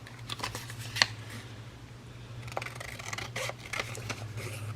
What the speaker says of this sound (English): Okay, I need my big scissors.